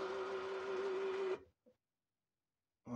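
An electric roller blind motor on a roof-window system whirs with a steady, even hum for about a second and a half, then cuts off into silence before briefly starting again at the end.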